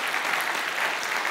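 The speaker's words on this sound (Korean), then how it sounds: "하나님께 영광의 박수 한번 올려드리도록 하겠습니다" Church congregation applauding during a Wednesday worship service, a dense, even burst of many hands clapping together, loud and continuous for the whole moment.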